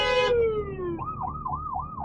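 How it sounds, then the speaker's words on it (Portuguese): An ambulance siren passing through a traffic jam: a long descending wail gives way to a rapid, repeating up-and-down yelp, loud and continuous over a low traffic rumble. "a ambulância está passando"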